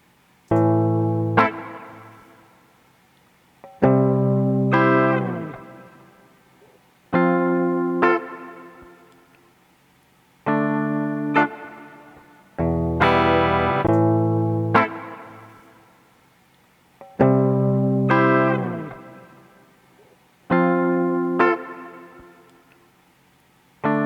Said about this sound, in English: Now we're going to try reverb.